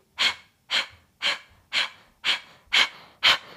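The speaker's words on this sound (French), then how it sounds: "Donc vous soufflez par le nez." Forceful nasal exhales during a breathing exercise, seven sharp puffs at an even rhythm of about one every half second, close and alone with quiet between them.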